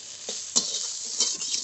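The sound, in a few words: stirring greens in a pan to dry them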